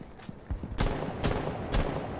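Video-game gunfire: sharp shots crack out at a steady interval over a constant background wash, each shot close and loud.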